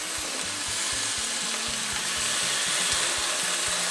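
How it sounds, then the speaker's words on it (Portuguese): A pork chop sizzles in a frying pan, a steady close crackling hiss running throughout with faint intermittent low tones in the background and no talk. "E vamos aguardar nossa bisteca chegar no ponto."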